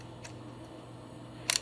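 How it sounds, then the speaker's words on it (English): The shutter of a Kodak Ektar H35 film camera fires once with a brief, crisp mechanical click near the end, following a faint earlier tick in a quiet room. "That's the shutter."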